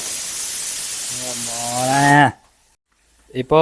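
A pressure cooker whistle rises into a loud, rising shriek of steam, then cuts off abruptly, followed by silence and a brief clatter.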